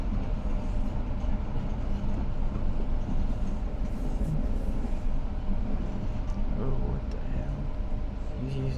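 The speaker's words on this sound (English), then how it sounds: "The destination of this train is Kenmore." Boston subway train running along its tracks after a nor'easter, with a steady loud rumble and rail noise throughout, plus onboard announcements and voices over the din.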